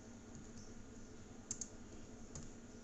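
Faint typing on a computer keyboard, a few scattered soft key clicks over a quiet background hum.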